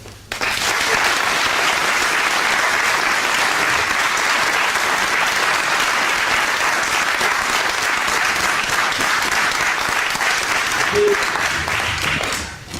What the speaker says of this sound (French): il mérite une salle d'applaudissements